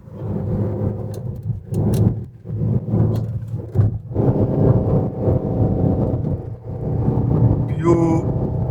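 A Porsche drives along a Hong Kong road with a loud, rumbling engine and road noise that swells and eases. A voice can be heard faintly underneath.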